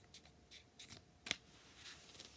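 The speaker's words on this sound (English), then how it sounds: "Okay, so time to shuffle them up." Playing cards being shuffled by hand after being dropped and gathered up, a few soft riffling bursts with one sharper snap near the middle, close and quiet with no talk.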